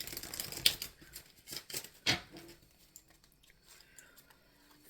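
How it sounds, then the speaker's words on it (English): Tarot cards being shuffled by hand, a run of soft papery riffles and taps with a few sharper snaps, close and fairly quiet, with no talking. "Shuffling for September."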